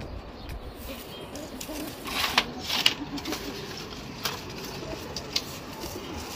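Pigeons cooing in a loft, soft low coos repeating irregularly against a quiet background, with a few faint wing flutters and scuffs.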